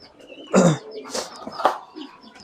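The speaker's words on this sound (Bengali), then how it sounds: "এই যে এইখানে আছে কিছু কবুতর গিরিবাস, এই সবগুলো গিরিবাস।" Giribaz pigeons cooing nearby, a few short soft coos and throaty calls in quick succession with quiet gaps.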